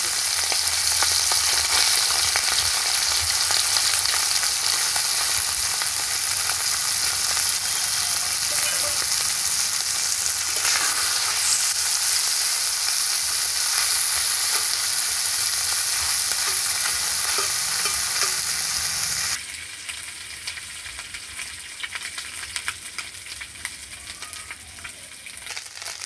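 Small fish rubbed with salt and turmeric fry in hot oil. A loud, continuous close-up sizzle and crackle carries on for a long stretch, then drops to a softer hiss.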